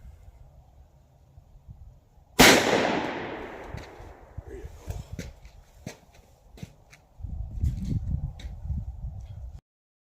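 A single sharp, loud report from a Fiocchi 148 grain 38 Special round fired through a 6-inch Taurus revolver, ringing out briefly, followed by quieter shuffling and movement nearby.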